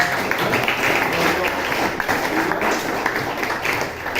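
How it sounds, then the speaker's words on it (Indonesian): A classroom of students applauds after a presentation, producing a dense, steady patter of clapping that lasts the whole stretch, with faint voices mixed in. "Berikan tepuk tangan dulu pada"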